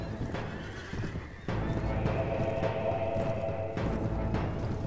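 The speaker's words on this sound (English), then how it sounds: "This horse is wounded." A horse in the Floris video game mod whinnies amid clip-clopping hooves and battle din, with a louder burst of noise partway through, fairly close and dense.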